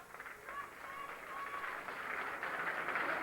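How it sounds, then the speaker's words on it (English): Distant, muffled applause from a crowd at a 1998 amateur rugby league cup final rises gradually, a soft wash of clapping that stays faint throughout. "Big round of applause as Ian Breyer leaves the field."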